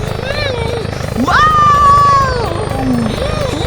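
A firefighting helicopter gives a steady, pulsing rotor drone throughout, with a child-friendly presenter's voice exclaiming loudly over it.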